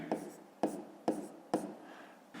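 Pen strokes on paper while a maths exercise is worked out: four or five short, crisp scratching bursts in a steady rhythm, close and fairly quiet, with no talk.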